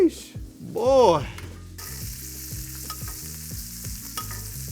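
Steak basting in butter in a hot pan for medium rare, a steady close sizzle and frying crackle with some stirring, no one talking over it.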